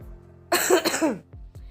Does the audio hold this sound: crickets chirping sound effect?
no